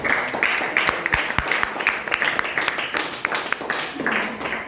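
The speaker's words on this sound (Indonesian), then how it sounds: "silakan tepuk tangan untuk kelompok" A classroom group gives brief, scattered applause for a presenting team, soft clapping mixed with murmuring voices in a teacher-training session.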